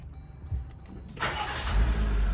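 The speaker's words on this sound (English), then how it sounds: "turn the car on" A car engine cranks and catches, rising into a steady running rumble after about a second, close by in a vehicle getting a one-touch headliner installed.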